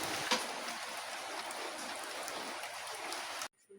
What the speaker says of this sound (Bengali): এই যে দেখেন এখানে বৃষ্টি হচ্ছে, খুবই বৃষ্টি।